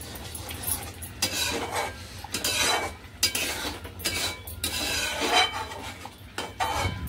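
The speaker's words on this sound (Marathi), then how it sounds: "बटर आपण मिक्स करून घेऊया." A spoon scrapes and clinks around a pan, stirring butter into a thick cashew masala gravy, in uneven bursts of scraping with short pauses between strokes.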